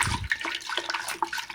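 Water scooped and poured back into a fermenting bucket while mixing a cherry mead: splashing, trickling pouring, close and continuous, with a brief low thump at the start and no talk.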